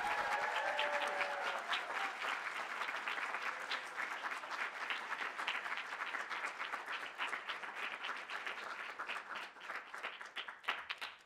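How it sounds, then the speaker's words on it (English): A sustained round of applause from an audience at a Three Minute Thesis competition, dense clapping that gradually thins out toward the end. "So let's give them a great big round of applause."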